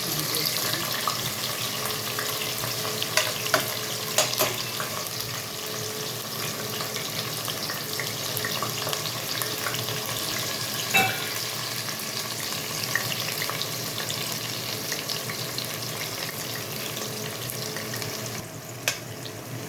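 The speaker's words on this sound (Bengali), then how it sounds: "পেঁয়াজ আর রসুন মোটামুটি ভাজা হয়ে গেছে" Onion and garlic fry steadily in a pan for Cantonese noodles, a continuous dense sizzle throughout with occasional clicks and stirring, close and fairly loud, with no talk.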